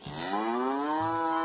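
A large dairy cow moos once, a long, rising, sustained low call heard up close with little else around it.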